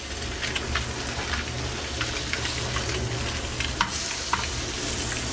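Flounder fillets sizzle in a hot pan after a surf-fishing catch, a steady close crackling fry with small pops and spatters throughout, no one speaking.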